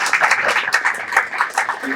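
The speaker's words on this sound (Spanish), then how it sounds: "Un aplauso aquí al director." Audience applause for the director at a conference, loud, continuous clapping from a crowd with voices mixed in.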